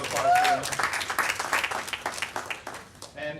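Crowd applause at an edtech meetup, a burst of clapping from a roomful of attendees that thins out, with a voice briefly heard over it.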